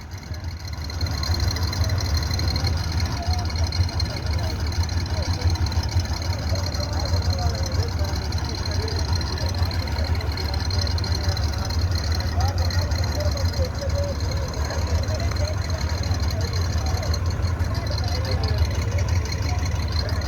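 A Massey Ferguson tractor, an MF 360 or MF 375, runs at a steady idle-like drone through a harvested field, with a constant low engine rumble and faint higher clatter lasting throughout.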